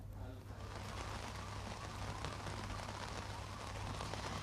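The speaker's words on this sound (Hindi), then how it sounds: "देखिए लगातार दिल्ली एनसीआर में बरसात हो रही है" Heavy rain pours steadily over Delhi NCR during an orange-alert downpour, a dense, continuous hiss of drops drumming on surfaces with a low constant hum underneath, no pauses throughout.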